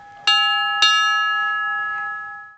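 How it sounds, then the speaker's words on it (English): The bell on a 1917 Ford Model T fire engine rings twice in quick succession, each strike bright and clear, leaving a long shimmering ring that slowly fades. "And the bell, which I think has an absolute beautiful sound."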